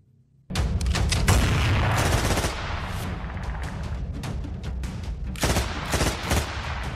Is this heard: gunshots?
yes